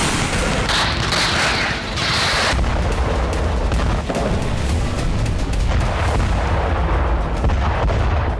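Relentless artillery fire from the Russia–Ukraine war front, heavy overlapping booms and blasts pounding continuously and loudly with no let-up.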